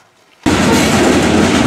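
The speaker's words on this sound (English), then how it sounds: "Always stuck by a train." A train passes close by at a street crossing, cutting in abruptly as a loud, steady broadband roar and rattle that drowns out the quiet street ambience before it.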